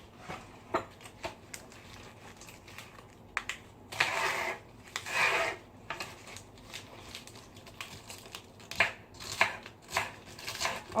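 A knife chops vegetables for a homemade salad on a board in a home kitchen, with a steady run of close, crisp taps, some louder scraping strokes and no talk.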